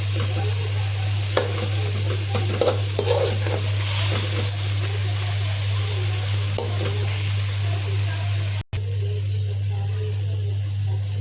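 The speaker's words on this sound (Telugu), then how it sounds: "నీరు ఇంకేదాకా కొంచెం కొంచెం కలుపుకుంటూ ఉండాలి" Freshly washed spinach leaves are stirred in a hot pan as their water cooks off, with a continuous sizzle, wet scraping strokes and a low steady hum beneath.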